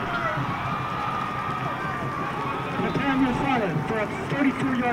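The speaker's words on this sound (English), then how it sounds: "the crowd is going nuts" At a high school football game between the Elgin Wildcats and Cedar Creek Eagles, a stadium crowd roars steadily after a game-winning 33-yard overtime field goal, with distant shouts swelling near the end.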